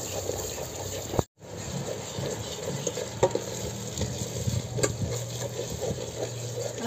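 Whole spices for mutton rassa stirred and sautéed in oil in a pan, giving a steady close sizzle with scraping stirs throughout and one brief silent gap.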